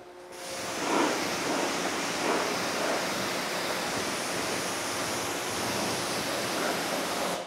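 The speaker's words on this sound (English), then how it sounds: "now that it's been 2 minutes, we can rinse it off" A water hose spraying to rinse a car, a loud continuous hiss of spray with slight surges, close and alone without talk.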